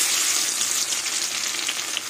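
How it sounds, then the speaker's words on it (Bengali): Crushed garlic dropped into hot oil with burnt dried red chillies, a loud, dense sizzle with scattered crackles and light pops, close and steady, no talking. "এবার আমি থেতো করা রসুন দিয়ে দেবো।"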